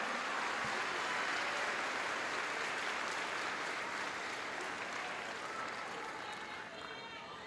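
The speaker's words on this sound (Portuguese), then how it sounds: "Vocês podem aplaudir ao Senhor pelos missionários dessa seara." Congregation applauding at a church service, a dense, steady wash of many hands clapping at moderate distance that carries on without pause for the whole stretch, easing only slightly toward the end.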